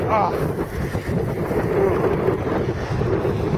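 Strong outdoor wind buffets the microphone in a constant, rough roar through the whole stretch, on a cold day near a street with a stop sign.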